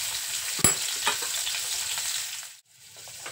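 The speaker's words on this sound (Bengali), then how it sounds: "এবার আলুগুলোকেও লাল লাল করে ভেজে নেব।" Potato pieces frying in oil in a wok, a steady close sizzle with a sharp clink near the start and a brief break near the end before the sizzle resumes.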